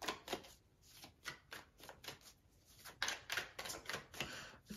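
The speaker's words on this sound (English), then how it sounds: "I'm going to shuffle this out." Tarot cards are shuffled in repeated quick riffling bursts, crisp papery flutters close by with short pauses between them.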